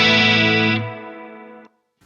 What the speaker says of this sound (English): We have a reverb. It's fantastic tube-driven reverb.